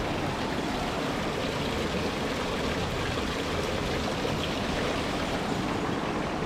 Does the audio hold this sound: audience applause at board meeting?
no